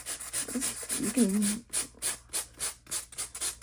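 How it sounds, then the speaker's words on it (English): Rhythmic rasping strokes of a beauty-aisle sanding block scrubbing across cardstock, steady back-and-forth, close up, after a brief spoken phrase. "I'm going to bring in a sanding block."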